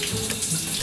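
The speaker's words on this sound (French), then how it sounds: "Ça va faire quasi 5 minutes que l'eau elle tourne" Shower water runs steadily in a cruise ship cabin while it is left on to warm up, a loud, even hiss of spray with no breaks and no voices.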